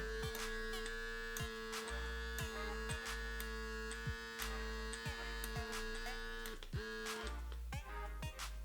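A PMD Kiss lip plumping device buzzes steadily with a strong electric hum, running continuously and close, with brief dips in pitch as the motor load changes.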